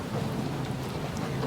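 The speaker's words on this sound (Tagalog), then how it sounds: "Umuulan." Steady rain falls outside a hotel in Vienna, Austria, a dense continuous hiss with a low rumbling undertone, even and unbroken, with no voices.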